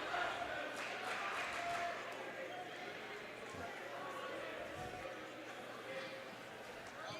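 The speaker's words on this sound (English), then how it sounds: "As you heard the student section chanting there" A basketball student section chants in a gym, a steady roar of many voices that fills the space continuously at a distance.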